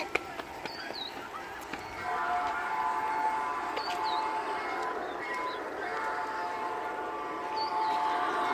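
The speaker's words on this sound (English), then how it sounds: "There's that train again." A train rolls past with a steady rumble that swells and holds, while faint whistle-like tones and chirps sound over it.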